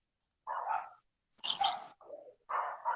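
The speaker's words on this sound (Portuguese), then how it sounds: "elas ficam o tempo todo latindo" Small dogs bark in short bursts, several sharp yaps in a quick run with brief gaps, fairly close and loud with nothing else heard.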